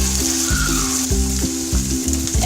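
Ginger paste frying in hot oil alongside garlic paste and bay leaf for a beef curry, giving a steady close sizzle under a repeating low tonal hum, with no talking.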